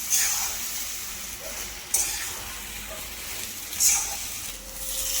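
Puffed rice (murmura) is stir-fried in a pan for a Latur-style sushila, producing a continuous dry, rustling sizzle, with periodic louder scrapes and tosses as the grains are turned, close by.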